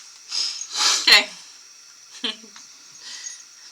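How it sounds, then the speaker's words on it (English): A single close, sharp sneeze from someone seated indoors during a cross-stitch session, bursting out loudly after some breathy sounds and followed by quieter shuffling and faint talk. "Sneeze might not get edited out."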